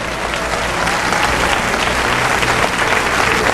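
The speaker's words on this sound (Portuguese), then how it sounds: "Aplausos para Deus!" A church congregation breaks into loud, sustained applause, dense and continuous clapping filling the room for several seconds with no one speaking over it.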